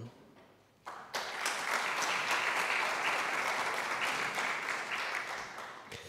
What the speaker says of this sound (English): please give a round of applause to Professor Paul Knoll.